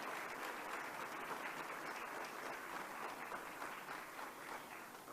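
Sustained audience applause for an award winner at a youth employment in food systems and agriculture event, a steady dense wash of clapping from a large crowd that stays loud and even throughout, fading slightly near the end.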